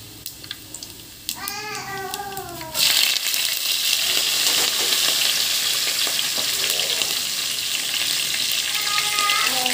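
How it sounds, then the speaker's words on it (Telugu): Green chillies drop into hot oil with cumin seeds for jeera rice, bursting into a loud, steady, close sizzle and crackle after a brief lead-in of quieter frying and a short whistle-like tone. "ఇదండి పచ్చిమిరపకాయలు వేస్తున్నాను."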